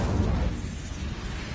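The Incendio fire spell cast in Hogwarts Legacy, a dense, steady rushing roar of flames with a heavy low rumble, loud and continuous throughout.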